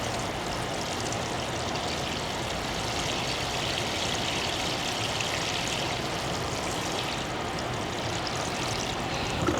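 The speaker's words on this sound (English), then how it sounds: "Then I'm gonna water these ones in." Steady, continuous rush of water poured onto soil while watering newly planted sweet potato slips in a garden, holding an even level throughout with no talking.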